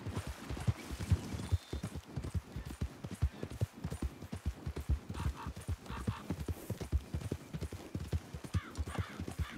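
In the video game Red Dead Redemption 2, a horse walks with a steady, close clip-clop of hooves, the hoofbeats coming in a quick even rhythm with faint snorts here and there and no speech.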